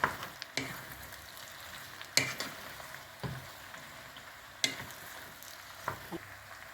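Pumpkin pieces seasoned with salt, red pepper and black spice sizzle in a frying pan, a steady low crackle punctuated by several sharp clinks and scrapes of stirring, close and moderately quiet with no talking.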